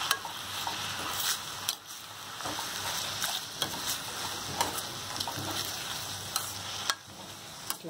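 Sorrel leaves cooking with green chillies, turmeric and salt are stirred in a pan, with a low continuous sizzle broken by repeated spatula scrapes and taps, close up and with no voices.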